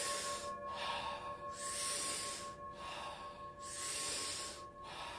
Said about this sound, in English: taking about 40 powerful breaths into the body through the mouth